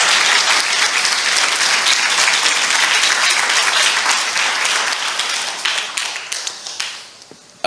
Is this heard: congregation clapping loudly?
yes